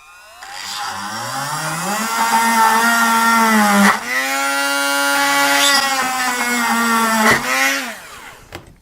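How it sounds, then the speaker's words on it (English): A small power drill fitted with a number 55 bit bores through a circuit board, giving a steady high whine that rises and dips in pitch as the bit cuts, loud and close with brief pauses. "And then I'm going to drill all the way through the board."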